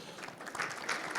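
Audience applause closing a regional energy storage panel forum in Belém do Pará, a short, fairly faint burst of steady clapping with no talk over it.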